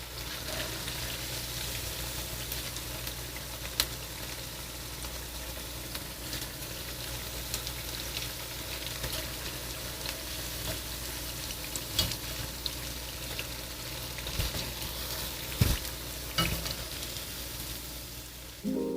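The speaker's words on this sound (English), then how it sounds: "if it didn't make that sizzling, popping sound like it did when we put those in, the oil's not hot enough" Hash browns sizzle and pop steadily in hot frying oil, a dense, even crackle that carries on for the whole stretch with a few sharper pops and no talk.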